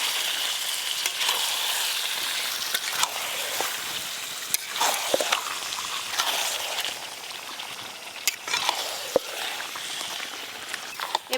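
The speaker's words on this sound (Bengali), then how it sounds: "এবার মশলা মাখানো মাটনগুলো দিয়ে দেবো।" Mutton pieces coated in spice paste sizzle in oil over a high flame on a clay stove, a steady crackling hiss broken by scraping stirs and sharp pops.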